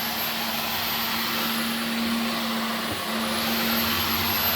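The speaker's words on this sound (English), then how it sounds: "you hear the machine picking up speed as it's cleaning and finding the dust and the dirt" A Dyson V15 Detect cordless stick vacuum runs steadily with a constant whine and airy rush, its motor pitch shifting slightly partway through as it speeds up on dust.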